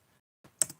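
Short burst of computer keyboard typing while entering a web address, a couple of quick close clicks after a brief silence, one sharply louder than the rest.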